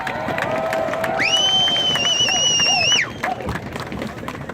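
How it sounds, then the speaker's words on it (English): Crowd at a pipeline rally cheers and claps, a dense wash of voices and applause throughout, with a loud whistle-like tone sounding over it for about two seconds midway. "So give it a round of applause for Jason."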